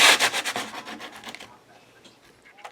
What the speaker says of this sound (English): Bring in my sanding block.